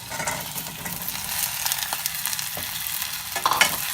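Garlic and onions sauté in a pan for okra mandi, giving a steady close sizzle with intermittent stirring scrapes throughout, no voices.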